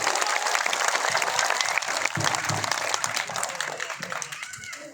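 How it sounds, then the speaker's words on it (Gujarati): At a by-election political rally, a crowd breaks into loud, sustained applause, dense clapping that fades slightly toward the end. "એના માટે તાળીઓનો ગડગડાટ થઈ જાય"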